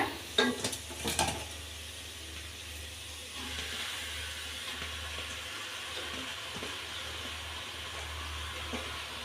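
Chicken and potato curry sizzles steadily in a pan, a constant close frying hiss with a few clinking stirs at the start.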